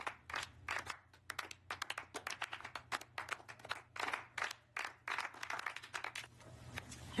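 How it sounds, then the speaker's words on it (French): Audience applauding at a mock César awards ceremony, a dense, steady clatter of many hands clapping that swells and holds for several seconds. "Applaudissez-vous"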